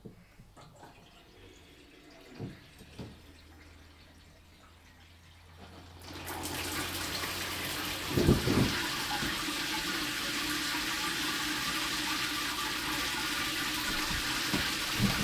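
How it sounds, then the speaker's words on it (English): Water from a newly installed shower in a barn renovation in New Zealand bursts on at about six seconds and runs as a steady, loud hiss to the end, with a few knocks after a quiet start. "We have a working shower."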